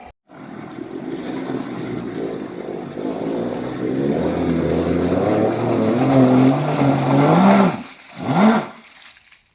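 A boat engine runs on the water during a first test drive, a steady droning hum that builds in loudness and ends with a couple of short revving swells before cutting off.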